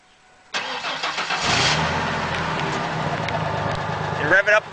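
A 1997 truck with a 4.2 V6 and stock exhaust cranks and fires up, settling into a loud, rough idle close by, with a brief voice near the end.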